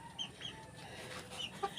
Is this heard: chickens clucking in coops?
yes